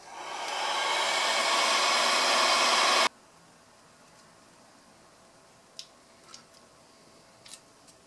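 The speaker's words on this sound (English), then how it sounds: "let me hit it with the heat gun, then I'll flip it over" Heat gun blowing loud and close for about three seconds while drying matte dark earth paint on a titanium 10mm 1911 pistol part, then cutting off abruptly, followed by quiet room tone with a few small clicks and taps.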